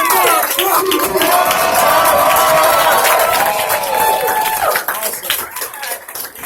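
Loud crowd clapping and cheering at a direct sales event, with shouts and whoops over dense applause that tapers into scattered claps toward the end.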